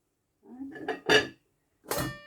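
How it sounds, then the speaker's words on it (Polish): A few clanks and scrapes of a large 8-litre metal pot being handled and set down on a hard surface, close and fairly loud. "Teraz postawię duży garnek 8-litrowy"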